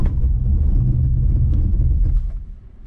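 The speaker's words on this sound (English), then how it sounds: "It's just spinning tires." Heavy low rumble from an electric BMW i4 M50 launching on cold tires that spin for grip, loud and close, then fading at the end.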